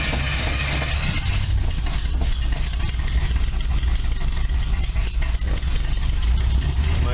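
A race car engine with a freshly rebuilt carburetor runs at a steady, loud idle, with a dense continuous rumble that holds throughout with no break.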